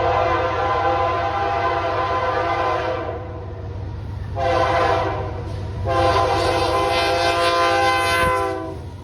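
A freight train rolls past with steady heavy rumbling, punctuated by loud, sustained horn blasts that repeat several times at close range.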